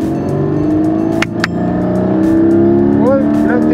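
Close, loud engine drone of a car accelerating steadily, with a few sharp clicks and a person talking over it.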